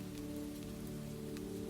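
Rain falls outside a shop in a soft, continuous patter, faint and even throughout, with a low steady hum beneath it.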